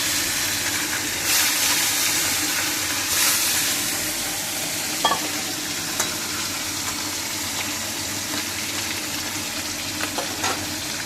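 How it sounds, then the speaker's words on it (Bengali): Fish sizzles in hot oil in a pan, a steady, loud, bright hiss that runs throughout with a few small pops and clicks. "তেলটা একটু গরম হলে তারপরে চলুন মাছটা তেলে ছেড়ে দিলাম"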